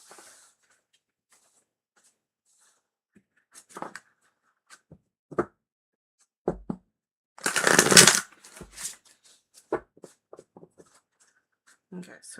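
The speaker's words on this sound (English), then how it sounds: "Gotta shuffle it more." Tarot cards being shuffled during a live reading: soft, scattered riffles and taps with one louder burst of card flutter midway, close and fairly quiet, with a voice speaking around it.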